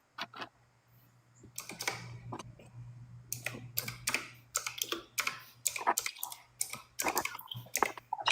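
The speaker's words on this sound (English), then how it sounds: "Y'all can't hear my keyboards clicking, right?" Keys clack rapidly on a Corsair computer keyboard, a dense run of close, loud clicks after a quiet opening, with a low steady hum underneath and no talking.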